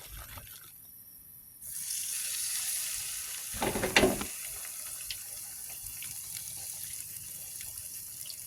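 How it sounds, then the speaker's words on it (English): Trout and spot fish frying in a pan outdoors in a park, a steady, fairly quiet sizzle that rises when the fish goes in, with a brief louder burst of crackle and no talk. "I do have one more piece of trout and the spot fish to fry."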